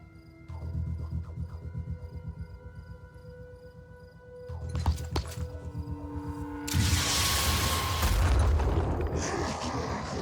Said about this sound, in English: So that means I can finish off with a rocket.